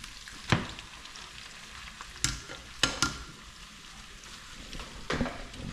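Saltfish frying in a pan with natural seasoning for ackee and saltfish makes a continuous sizzle, broken by a few sharp clatters from stirring, close up and with no talking.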